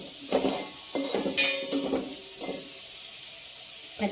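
A mashed spice paste of crushed coriander fries in a pan for an okra egg curry, giving a steady sizzle with a few louder stirring scrapes and bursts near the start, and no voices.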